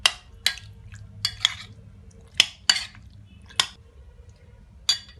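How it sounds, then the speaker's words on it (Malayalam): Chicken being mixed by hand or spoon in a bowl with soy sauce, chilli sauce and tomato sauce, giving scattered wet clinks and squishy scrapes at irregular intervals, fairly close and alone. "നന്നായിട്ട് മിക്സ് ചെയ്യാം."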